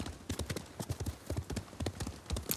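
Horses gallop in Ghost of Tsushima, a rapid, steady clip-clop of hooves pounding close and loud for the whole stretch, with faint snorts and no talk over them.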